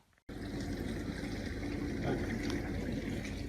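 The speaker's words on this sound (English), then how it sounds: "the dishwasher is running" After a brief quiet moment, a dishwasher starts running: a steady wash of swishing, spraying water with a low mechanical hum, continuous and close.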